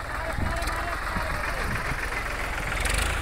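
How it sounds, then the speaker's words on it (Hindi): A tractor engine idles with a steady mid-pitched rumble and knock near a village fire in Amraiya Kalan, running continuously while people shout and talk over it. "दूर रखिए अपना ट्रैक्टर"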